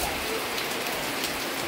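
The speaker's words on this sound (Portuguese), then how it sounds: "por isso que estamos tudo ali, ó, só observando a chuva." Heavy rain pours during a thunderstorm, a dense, steady roar of drops hitting the ground and surfaces without a break.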